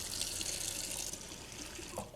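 Hot water running steadily from a kitchen tap, a soft continuous hiss and splash that drops slightly partway through, fairly quiet with no talking.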